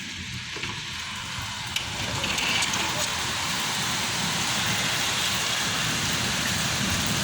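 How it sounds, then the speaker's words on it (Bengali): Heavy rain driven by strong wind roars steadily outside a window, a dense, loud hiss that swells after a quieter start and stays constant. "প্রচণ্ড বাতাস, প্রচণ্ড বৃষ্টি"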